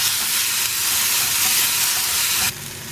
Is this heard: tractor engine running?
no